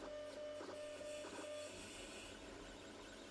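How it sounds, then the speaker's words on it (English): An Anycubic i3 Mega 3D printer fitted with an upgraded MK4 X-carriage runs a test print, its stepper motors whining in short tonal bursts over a steady mechanical hum, close and alone. "I'm just doing a quick test print here, and everything is printing perfectly."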